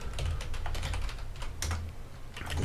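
Rapid, uneven keystrokes clatter on a computer keyboard, a short burst of close typing with brief pauses and no voices.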